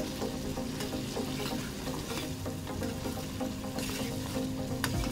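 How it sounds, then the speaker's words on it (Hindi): Arvi (taro root) and chicken curry fries over high flame in a pan, producing a continuous loud sizzle with occasional stirring scrapes and clinks and no talk. "इसको आपने थोड़ा सा तेज़ आंच पे फ्राई करना है, लो आंच पे नहीं"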